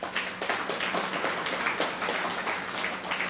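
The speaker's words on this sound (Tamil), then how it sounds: "இந்த சிவாச்சாரியாருக்கு ஒரு கைத்தட்டு கொடுங்க" An audience at a comedy debate stage event applauds a priest, a dense, steady roar of many hands clapping throughout, close and fairly loud.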